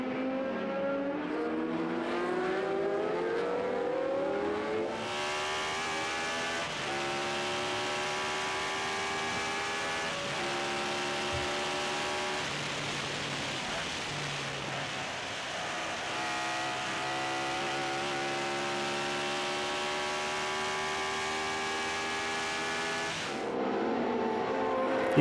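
Onboard a Gulf Mirage race car at Spa during a passing manoeuvre, the engine droning loud and steady with rising and falling revs as it shifts through gears, continuous for the whole stretch.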